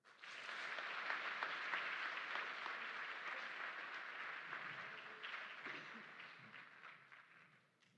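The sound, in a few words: audience applause for instructors and drill sergeant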